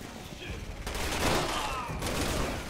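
Gunfire in Resident Evil 6, a dense burst of broadband shots and crackling blasts filling the whole stretch, loud and continuous with rises near the middle and end, speech-like sounds mixed underneath.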